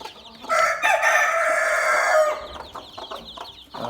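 On a farm with hatched chicks, a rooster crows loudly and close, one long drawn-out call, followed by clucking and short calls from other chickens.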